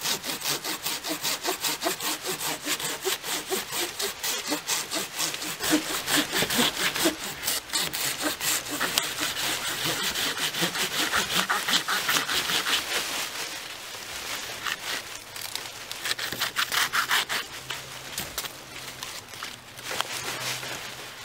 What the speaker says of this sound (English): All right, let's do some cutting with this saw now.